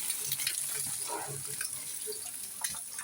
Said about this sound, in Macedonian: Ево, дечки, си се пржи.